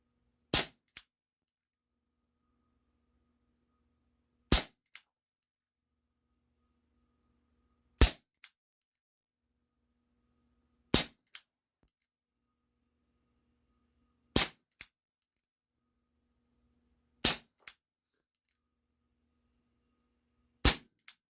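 A Cybergun Baby Eagle airsoft pistol fires slow, evenly spaced single shots: sharp dry pops a few seconds apart, each followed by a quieter tick, with near silence between them and no talking.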